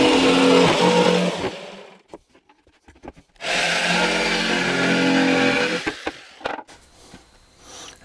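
A power saw cuts through a plywood board in two long, loud, steady bursts separated by a short pause with small knocks, then the blade winds down into a quieter tail.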